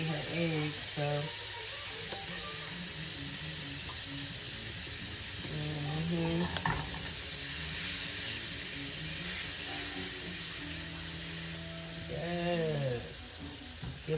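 Butter frying in a pan on a stovetop for pancakes, a steady broadband sizzle running throughout beneath intermittent talking voices, with a brief clatter near the middle.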